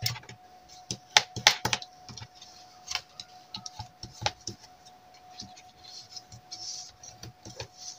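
Paper being creased into folds while making an advent calendar box by hand, irregular soft clicks and taps with scattered sharper snaps, close up and fairly quiet, with no talking.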